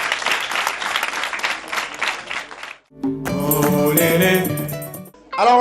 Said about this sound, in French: Alors on applaudit très très fort